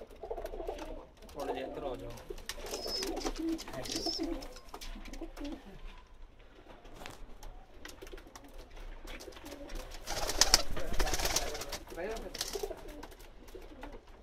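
Breeder pigeons of Pakistani breeds coo softly in the background while someone talks over them, with faint rustling and a few wing flutters.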